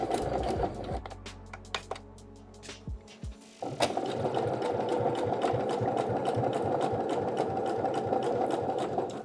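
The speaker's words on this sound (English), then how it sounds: "And as I sew here, again," Sewing machine running steadily while top stitching a seam on an EDC pouch, preceded by a few short stop-start bursts that anchor the thread, then a continuous close, loud whir.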